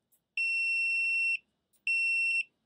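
Continuity beep from a KAIWEETS KM312B digital multimeter: two steady high-pitched electronic tones, each lasting about a second, separated by a short silence, loud and clear with nothing else audible.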